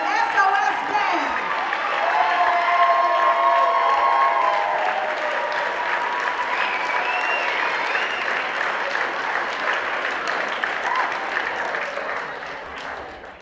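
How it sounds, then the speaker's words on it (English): Sustained audience applause for a band at the 2012 Georgia Music Awards, a dense, loud wash of clapping and crowd noise lasting throughout and slowly tapering near the end. "Please stand and give them a round of applause."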